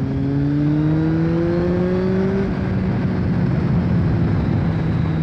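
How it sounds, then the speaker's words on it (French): A Kawasaki Z750 four-cylinder motorcycle pulls in fourth gear from 4000 rpm, its steady engine drone rising in pitch over the first half and then holding a strong, even roar up close. "Regardez, là je suis en 4ème à 4000 tours."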